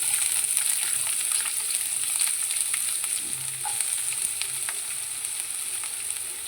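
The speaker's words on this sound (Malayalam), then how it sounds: "കറിവേപ്പില ഇതെല്ലാം കൂടെ ഇട്ട് കുറച്ച് ഉപ്പും കൂടി ഇട്ട് ഇതൊന്ന് വഴറ്റി കൊടുക്കാം" Onion, ginger and curry leaves sautéing in hot oil after urad dal has browned, a steady close sizzle with light stirring scrapes and no talking.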